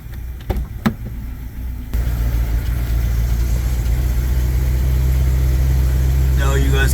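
A 2005 BMW 745Li idles just after start-up, a steady low engine rumble that fills the space loud and close. A few clicks and knocks come first, and a voice breaks in briefly near the end.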